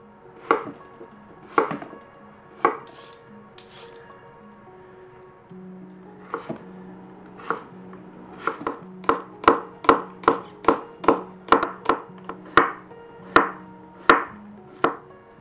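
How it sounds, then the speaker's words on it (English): Knife chopping carrot, potatoes, zucchini and scallions on a board: sparse cuts at first, then a steady run of crisp, evenly spaced chops, close and fairly loud, with no talking. "peel and julienne carrot, peel and cube some potatoes, slice up some zucchini and scallions"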